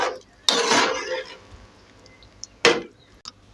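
A lid goes onto a pot of creamy tomato pasta with a few sharp metallic clanks and clatters: a longer rattling burst, then two short knocks a couple of seconds later, with quiet room tone between.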